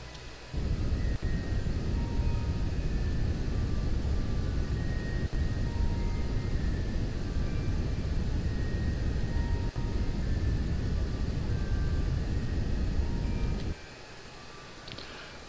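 A rocket engine burn in Kerbal Space Program, a loud, steady rumbling roar that kicks in abruptly, holds constant for about thirteen seconds, then cuts off to a quieter background hum.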